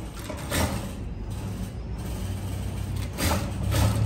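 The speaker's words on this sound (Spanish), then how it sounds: "Luego empezamos a coser sobre la costura, encima de la costura que hicimos anteriormente." A sewing machine runs steadily and close while stitching over an earlier seam on a bustier, giving a continuous whirring, mechanical chatter with slight rises in intensity and no talking.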